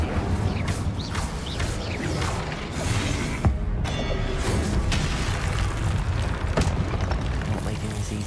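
An Incendio fire spell bursts out in the Hogwarts Legacy game amid a dense, loud roar of magical combat, with booming impacts, crackling blasts and sharp strikes layered over continuous rumbling, while a voice speaks over it.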